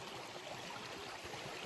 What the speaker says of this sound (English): Love a good running water.